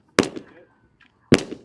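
Two sharp gunshots at a shooting range, each a loud close crack with a short decaying echo, about a second apart, with quiet between them.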